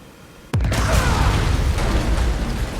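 A sudden loud explosion bursts as a sewer pipe is ripped open in the Spider-Man 2 video game. The blast is followed by a sustained roaring rumble with hissing debris that stays loud for the rest of the clip.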